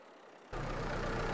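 IMT tractor arriving in Farming Simulator 22, its engine cutting in abruptly after near silence and then running as a loud, steady, low rumble.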